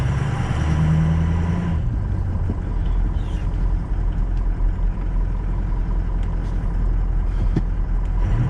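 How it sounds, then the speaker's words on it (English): A truck engine rumbles as it is driven, starting with a brief higher whine and then settling into a steady, fairly loud road drone with small knocks and bumps throughout. "Figured I'd take my truck for a ride."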